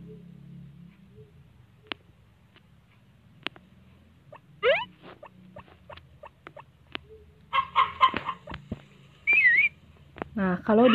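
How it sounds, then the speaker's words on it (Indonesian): Several short, shrill whistle blasts, blown to make a horse run fast in the farming game Harvest Moon: Back to Nature, sound over a quiet background, mixed with small clucking and chirping game sound effects. "kalau dibunyiin peluit, kudanya lari cepet nih"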